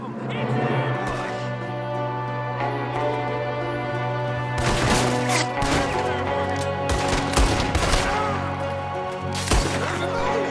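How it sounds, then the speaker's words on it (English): Gunfire in the Red Dead Redemption 2 video game during an ambush with a shooter at a window, loud bursts of several sharp shots clustered in the second half over a steady tonal music bed, with voices. "There's another one shooting from the window"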